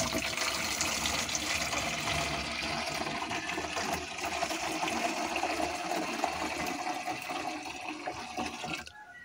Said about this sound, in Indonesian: tinggal kita tuangkan karena tempatnya jauh, harus kita masukkan jerigen dulu ya